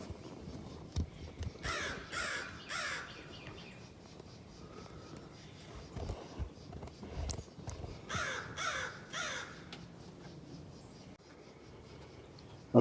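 A crow caws in repeated bursts of harsh calls, with quiet stretches between them, over faint background sounds.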